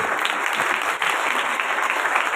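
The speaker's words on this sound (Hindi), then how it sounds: "जोर से ताली बजाएं पाक रूह के लिए।" A church congregation gives loud, dense applause during a sermon, a continuous wash of many hands clapping close by at even, sustained volume throughout.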